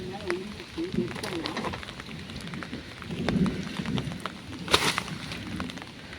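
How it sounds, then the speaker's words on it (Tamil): Steady rain and gusting wind on a farm, a dense, fairly faint wash of drops and air with a few sharper crackles. "அது சரியான மழை காற்று ஃப்ரெண்ட்ஸ்."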